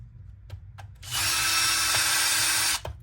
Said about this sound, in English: See how it clutched out there, so it doesn't get over tightened.